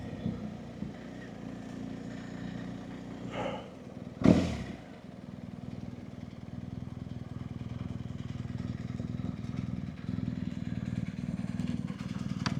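A motorcycle rolls in on an Outback road in the Flinders Ranges, its engine a steady nearby drone with a sharp clatter partway through as it pulls up and parks.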